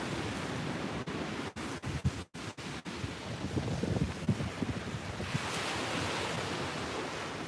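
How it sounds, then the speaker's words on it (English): Steady wind roars across the microphone outdoors, a broad rushing noise with a few brief dropouts early on, then continuing evenly, with surf-like swells. "does the wind sound better behind the camera than in front?"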